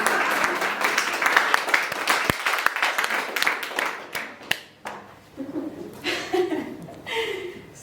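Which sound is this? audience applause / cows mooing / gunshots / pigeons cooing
audience applause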